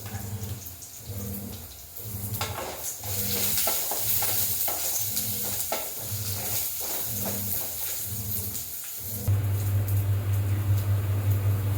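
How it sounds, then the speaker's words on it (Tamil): Small onions sauté in oil in a pan for a roasted-masala mutton gravy, with a steady close sizzle and repeated stirring scrapes, and the frying grows louder and more even near the end. "இப்போ எல்லாத்தையுமே நம்ம வந்து அந்த எண்ணெயில் வந்து லைட்டாக வதக்கிக்குவோம்."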